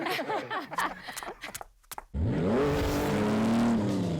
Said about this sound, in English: It's a 5-seater extreme sand rail.